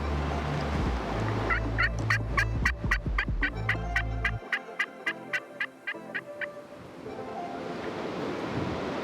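A wild turkey gobbler gobbles repeatedly during a Kansas hunt, a series of rapid rattling gobbles over strong gusting wind that drops away partway through, the bird sounding fairly close.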